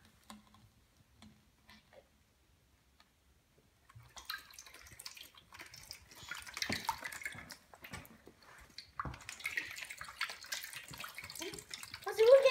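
Water runs through a simple toy waterwheel, starting after a quiet stretch as a close, splashy trickle mixed with light ticking and clattering that grows louder toward the end, with voices in the background.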